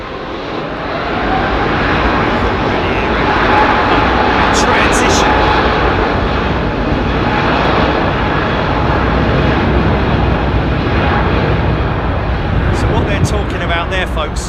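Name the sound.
aircraft jet engine firing up at Heathrow Airport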